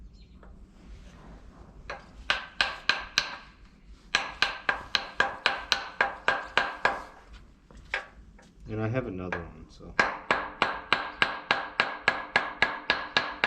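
A pilot bearing is driven into a 1987 Toyota Supra using an improvised hammer substitute, giving sharp metallic taps in quick regular bursts with short pauses, close and loud, with brief talk in between.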